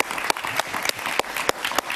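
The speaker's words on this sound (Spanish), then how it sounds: "Un aplauso para el coronel." Applause for a colonel from a studio or hall audience, a steady wash of many hands with sharp individual claps standing out, sustained throughout at moderate loudness.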